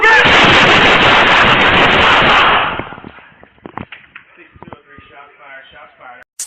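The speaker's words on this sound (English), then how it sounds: "Shots fired." Gunfire during a police confrontation with an armed suspect: a loud, dense, continuous burst of shots for about two and a half seconds, then it breaks off into scattered knocks and voices talking close by.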